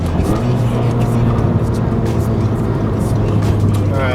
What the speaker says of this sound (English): accelerating onto the freeway, get a better sense of quick shifts.